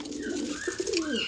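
Soft, throaty cooing of a black pigeon, a few low rolling coos close by over faint background noise.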